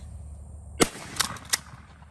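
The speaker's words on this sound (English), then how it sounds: "Just hold the trigger and just keep pumping." A pump-action shotgun is slam-fired outdoors by holding the trigger and working the pump. Three sharp reports come in quick succession, and the first is the loudest.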